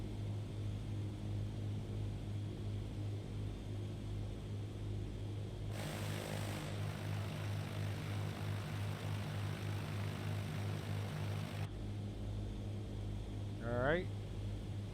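Small propeller plane engine on descent toward Falwell airport in Flight Simulator 2020, a constant low throbbing drone at reduced power. It holds steady throughout, with a brief rising whine near the end.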